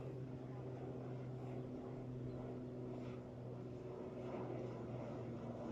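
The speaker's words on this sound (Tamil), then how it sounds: "பலாலிருந்து கிளம்பியது இண்டிகோ விமானம்." An IndiGo passenger plane takes off from Palali airport in Jaffna, heard as a steady, distant engine roar with a low droning hum that holds evenly throughout, with faint voices nearby.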